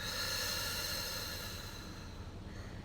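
A long, steady exhale through the nose or mouth during a guided breathing exercise, a close, continuous breathy rush that fades slightly toward the end.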